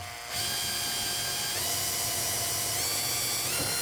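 An electric drill spins a Predator 420 engine's camshaft until the compression relief releases, giving a steady, loud whine that ramps in pitch after a brief start and carries on alone without talk.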